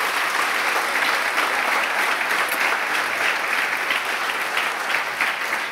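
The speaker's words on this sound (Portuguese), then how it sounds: "Vamos dar uma salva de palmas a essa história?" A congregation claps at a church service, a steady, even wash of applause from many hands that holds at one level for the whole span.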